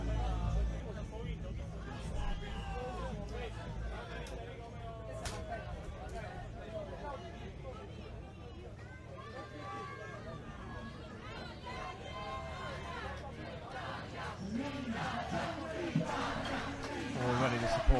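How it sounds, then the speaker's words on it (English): Crowd at a medieval armored battle event cheering on the Italian team, a broad, continuous roar and shouting held at a distance, with commentators talking over it throughout. "Already the support from the crowd comes through, charging up the Italians."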